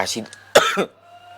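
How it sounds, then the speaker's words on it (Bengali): A single sharp cough bursts out mid-clip, close and loud, set between short bits of nearby speech. "কাশিটা হয়ে গেছে।"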